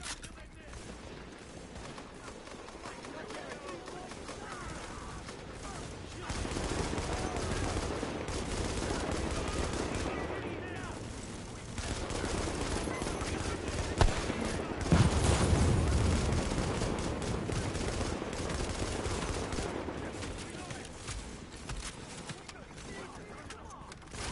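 Sustained gunfire from a PS4 shooter game, dense and continuous for the whole stretch, with heavier bursts partway through and a person talking over it.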